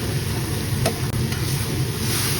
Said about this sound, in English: now we're just going to flip it on its side